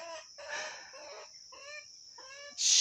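A Brahma hen makes several close, rhythmic clucks and short throaty calls in a quiet setting, ending with a brief rustle.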